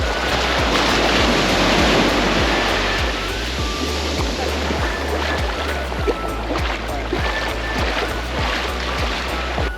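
Surf rolling onto Kata beach in Phuket, Thailand, a steady broadband wash of breaking waves with low rumbling swells, loud and continuous throughout with no voices.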